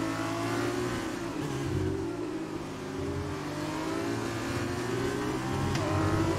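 A Formula 1 car engine in the F1 2020 racing game revs continuously and loudly, its high whine rising and falling with gear changes over a steady drone, with no voices over it.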